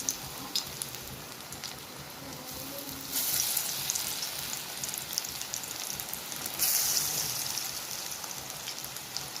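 Green onion pakoras sizzle steadily in hot oil, a continuous hiss of frying that swells louder as fresh batter drops into the pan, with no talking.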